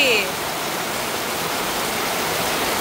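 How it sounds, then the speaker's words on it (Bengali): Heavy rain pours down in a dense, loud hiss that stays constant throughout, with a brief chirp at the very start. "বৃষ্টি যেমন থামছেই না, আরো জোরে জোরে পড়তেছে না"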